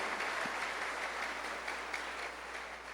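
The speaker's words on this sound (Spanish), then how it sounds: "Fuerte el aplauso" A church congregation claps loudly after a sermon, a dense, steady wash of hands that holds at even strength for a few seconds.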